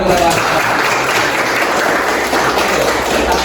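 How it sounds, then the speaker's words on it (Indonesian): Clapping by a class of pupils during a lesson, a loud, continuous patter of hands that is fairly steady from start to finish with a slight dip partway through. "Tepuk tangan, tepuk tangan."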